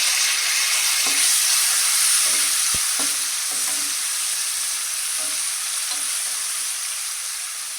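Cut tomatoes fry in a pan, a loud steady hiss of sizzling oil close up, with intermittent spatula taps and stirs scattered through it and no talking.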